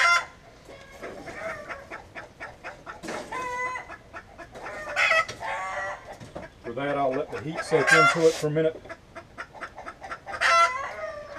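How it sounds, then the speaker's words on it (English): Hen clucking and fussing loudly and repeatedly in a coop near a home forge, her agitated calls rising and falling while someone speaks briefly in between. "Pardon my hens, she's upset that I'm in here and she can't get to her spot to lay her egg. So she's fussing at me."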